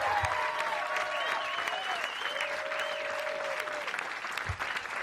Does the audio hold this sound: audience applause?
yes